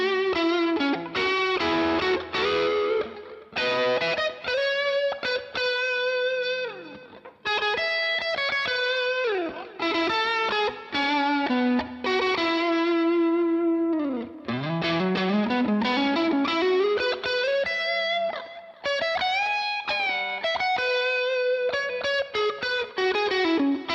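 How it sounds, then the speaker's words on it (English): Electric guitar played through a Strat-style neck single-coil pickup with distortion, a gritty blues tone of bent notes, sustained lines and short phrases separated by brief gaps, played alone without talk. "back to the neck pickup with some distortion"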